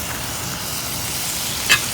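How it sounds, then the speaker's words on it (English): Steady, soft sizzling of ham steak frying over an open fire, an even crackling hiss throughout with one brief sharper pop near the end. "ham steak is sizzling"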